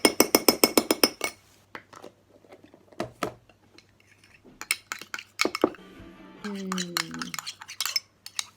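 Spoon scraping and clinking against a bowl while a homemade moisturiser mixture is stirred, in quick repeated strokes at the start, then sparser taps and a short squeaky scrape, close and fairly quiet.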